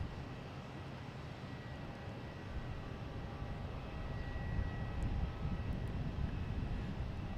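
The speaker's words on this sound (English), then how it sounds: "watching the planes landing around you" Planes landing at Boston Logan Airport make a steady, distant engine roar and rumble that swells slightly toward the end, with no voices over it.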